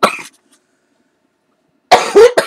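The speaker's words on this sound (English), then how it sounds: "I do apologize for coughing into the video, my camera." Two or three loud, close coughs from a person crafting and sharing happy mail cards indoors, with a brief burst at the start and a harsher pair after a pause of silence.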